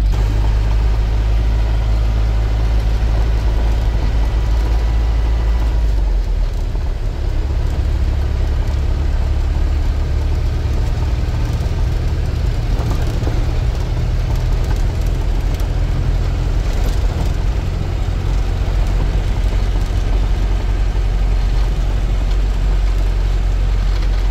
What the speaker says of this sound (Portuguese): O barulho é por causa do caminhão.